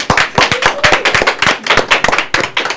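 A hall audience gives a dense round of clapping to welcome a speaker, loud and close, with crisp overlapping claps that keep up a lively, uneven rhythm from start to finish.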